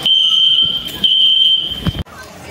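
A loud, piercing electronic fire alarm tone sounds continuously, briefly dipping once, then cuts off abruptly near the end; the alarm was pulled by someone.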